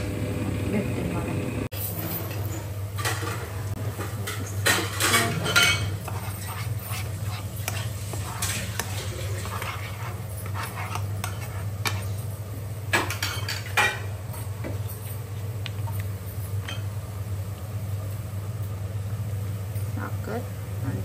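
Paneer being mixed in a pot, with a utensil clinking and scraping against the metal at intervals over a steady low hum from the stove.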